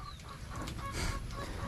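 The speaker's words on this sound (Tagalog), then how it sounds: "gala na yung mga manok kasi medyo tumila na" Farm chickens cluck in short, scattered bursts close by, with a low rumble of outdoor background noise and no talking.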